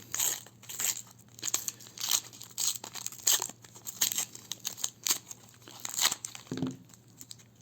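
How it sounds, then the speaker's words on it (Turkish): A pink toy box package is torn open up close, with bursts of crinkling cardboard and paper tearing coming in quick irregular rustles, fairly quiet, with no talk. "Hemen şöyle açalım pembe toy box'umuzu"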